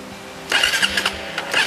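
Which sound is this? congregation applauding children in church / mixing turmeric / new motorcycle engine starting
new motorcycle engine starting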